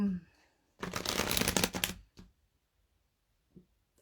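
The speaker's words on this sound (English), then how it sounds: "Vaughn, I'm going to shuffle the deck for you, babe" Cards riffle in a quick, crisp shuffle lasting about a second, with brief quiet and a faint tap afterward.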